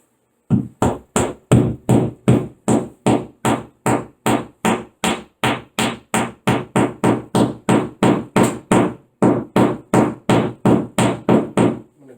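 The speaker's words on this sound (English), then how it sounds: "I'm going to take a hammer here" A hammer taps a plastic wall anchor into drywall for mounting a towel hook, about thirty sharp, evenly spaced knocks in a steady rhythm, loud and close with a brief pause partway through.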